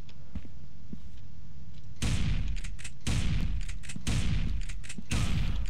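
Four loud shotgun blasts, roughly a second apart, fired in the Jeff the Killer horror game, each a sharp booming burst with a short decay after a quiet stretch of ambience.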